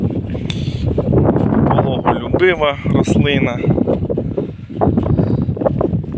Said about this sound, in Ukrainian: щось вітер заважає знімати